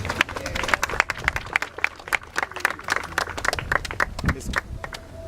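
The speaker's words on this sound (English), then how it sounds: "Applaud him." Audience clapping at a ceremony unveiling a bust of G.C. Foster, applauding Mr. Hubert Lawrence: dense, sustained applause from a crowd of many hands that stays steady and fairly loud throughout.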